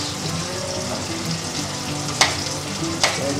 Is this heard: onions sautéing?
yes